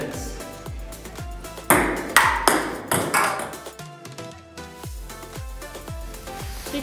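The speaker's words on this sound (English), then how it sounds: "we can have a quick friendly tournament table tennis." A table tennis ball is struck back and forth in a residential games room, giving a run of crisp, regular ping-pong clicks at close range, with a few louder knocks and a faint voice mixed in.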